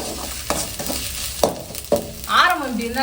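Ginger garlic paste sizzles as it fries in a pan, with a few scraping strokes of a stirring spoon and a brief rising whistle-like squeak near the end, fairly close.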